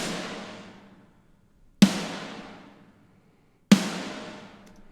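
Three enormous booming snare drum sample hits land about two seconds apart, each with a sharp crack and a long, washy decay that fades out before the next.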